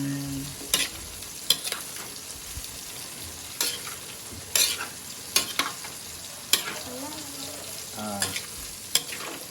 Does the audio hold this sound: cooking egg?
yes